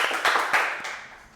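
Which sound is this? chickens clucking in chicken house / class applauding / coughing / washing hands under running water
class applauding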